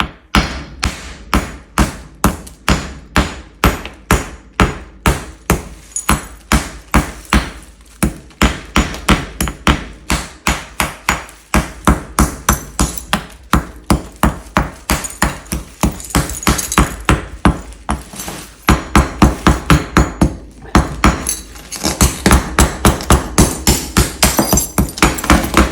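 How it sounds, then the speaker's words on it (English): A hammer striking a concrete vase mold over and over, sharp loud close knocks in a fast steady rhythm that keeps going without pause, with brief clusters of quicker blows. "And then you simply start hammering."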